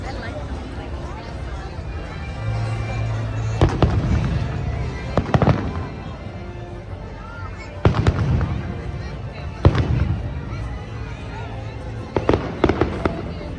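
Fireworks burst in a series of sharp booms and crackles at a Disney park, some near and loud, over a steady murmur of a crowd talking.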